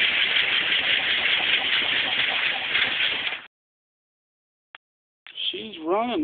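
A V8 engine fitted in a 1967 VW Beetle runs with a loud, rough, steady roar for about three and a half seconds, then stops abruptly; after a pause a brief click and a voice follow.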